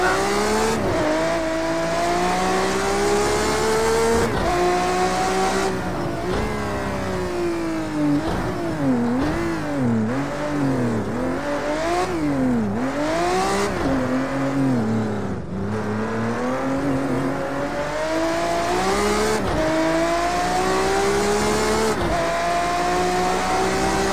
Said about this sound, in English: listen to this beautiful Ferrari Enzo